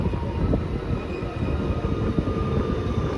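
A MEMU passenger train pulls into platform 1 of a station, giving a steady, loud rolling rumble with a faint high whine over it, close by and without talk.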